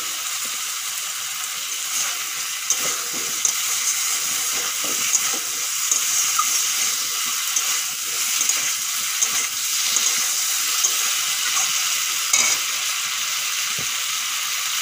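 Lubia beans frying in a pan, a continuous close sizzle and crackle with scattered pops and light stirring clatter throughout, no talking.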